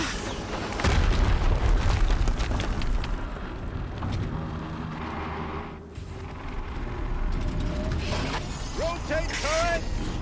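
Booming blasts and mechanical rumble from a Horizon Zero Dawn battle, with a loud burst near the start, sustained heavy churning noise, then ratcheting clanks and brief squealing tones toward the end.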